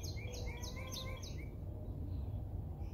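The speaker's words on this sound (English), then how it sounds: "There's a bird." Several birds give a quick run of high, bright chirping calls in a garden, repeated five or six times in the first second and a half before fading into quiet outdoor ambience with a low background hum.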